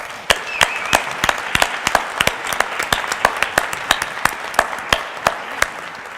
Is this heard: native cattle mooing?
no